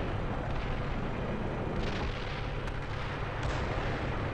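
Gunfire and artillery in a military video game, a dense, continuous rumble of distant booms and blasts with a few sharper cracks, loud and unbroken throughout.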